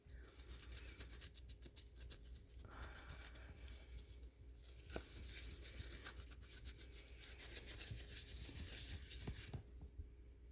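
A product is rubbed by hand onto a resin piece in close, faint, continuous scuffing strokes with a few short pauses and no talking.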